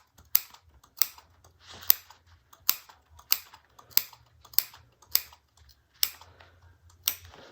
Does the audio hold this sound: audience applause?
no